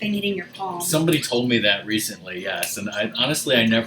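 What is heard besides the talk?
No everyday noise stands out behind the speech.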